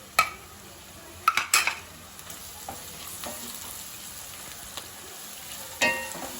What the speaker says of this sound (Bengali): এগুলো সবকিছু দেওয়ার পরে একটু লাড়াচাড়া করতেছে, মানে ভালোভাবে মিক্সড করতেছে আর কি